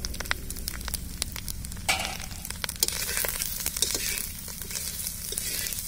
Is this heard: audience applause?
no